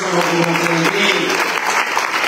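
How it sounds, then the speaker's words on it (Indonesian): A church congregation claps together in a short, lively burst, with voices and sung tones mixed in beneath the clapping. "Tepuk tangan dong,"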